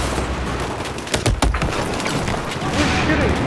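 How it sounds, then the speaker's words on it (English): Battlefield 4 gunfire on the Operation Metro map, a burst of shots and thuds in close-quarters multiplayer combat, loud against steady game ambience with players talking over it. "Who's shooting?"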